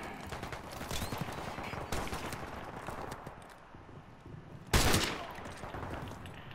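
Video game gunfire in a gun-game match on the Backlot map, rapid bursts of shots at moderate volume with a sharp loud report near the end, no talk.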